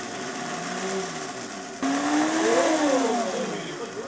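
A blender motor whirs loudly, then kicks up in pitch as it grinds dry rice vermicelli into powder, its tone rising and wavering under the strain.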